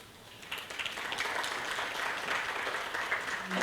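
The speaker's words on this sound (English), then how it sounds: "Let's keep the applause going." An audience at the opening of a BU-LABNET annual meeting in Accra gives moderate, steady applause that swells slightly and holds for a few seconds.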